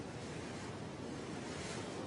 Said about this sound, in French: Le vent de terre s'est levé et pousse en douceur les voiliers des pêcheurs vers le large.